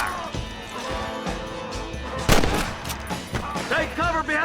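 Gunfire in the Western video game Red Dead Redemption, a few sharp shots cracking out over busy game music and ambient noise, with a loud burst midway and more scattered shots toward the end.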